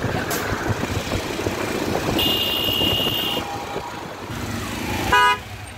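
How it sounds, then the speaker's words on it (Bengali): Dhaka city street traffic rumbles steadily with passing cars and motorbikes, a long car horn blaring for about a second near the middle and a shorter honk near the end. "ঢাকা শহরের আওয়াজ"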